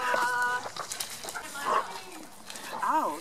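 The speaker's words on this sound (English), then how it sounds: "Oh, my beautiful dog." A pet dog gives a few short barks and yips at close range, indoors with people nearby talking.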